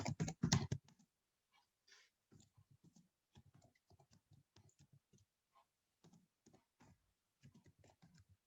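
Keys tap steadily on a computer keyboard while commands are entered, producing quiet, close clicks in irregular short runs, preceded by one louder burst, with no voices.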